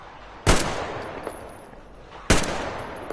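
Two sharp gunshots from Metro Exodus, spaced under two seconds apart, each a loud bright crack with a short decaying tail over quiet game ambience.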